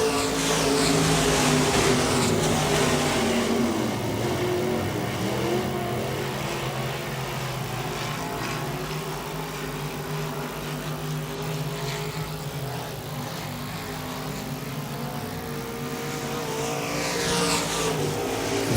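Race cars roar around Wagner Speedway during a B-Modified event, a steady loud engine drone that runs throughout with shifting pitch as the cars battle through the turns.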